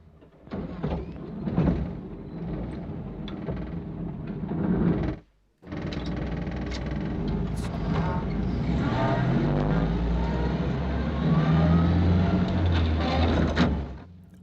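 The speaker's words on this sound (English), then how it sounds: "I think these are kind of London bus noises," London bus noises heard from the driver's cab, played from an M-Tron Pro sample: a loud, distorted engine rumble with rattles and a hiss, a brief dropout partway, then a rising whine as the bus moves.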